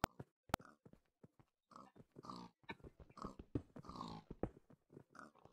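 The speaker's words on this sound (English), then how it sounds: "God dang you pigs!" Pigs in Minecraft give a string of short grunting oinks in quick bursts, fairly faint and close, with no talking.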